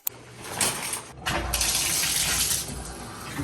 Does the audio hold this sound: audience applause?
no